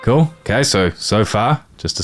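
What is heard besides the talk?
No everyday noises stand out.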